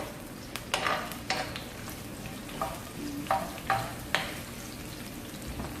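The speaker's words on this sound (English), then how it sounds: "let's leave the onion to saute or to be a little bit soft side" Onions sauté in a pan for an egg and yam stew, a constant low sizzle broken by several sharp clinks and scrapes of a spoon stirring against the pan, with no one speaking.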